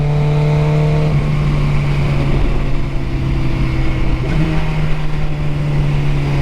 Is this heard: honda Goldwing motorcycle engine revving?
yes